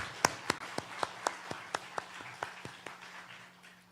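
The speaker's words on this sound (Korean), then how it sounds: "오늘 밤 이렇게 귀한 자리에서 우리가 예배 드릴 수 있게 하신 하나님께 영광의 박수 한번 올려드리겠습니다." Congregation applause at a church New Year revival worship service, heard as a string of crisp, evenly spaced claps that keep a steady beat and slowly fade.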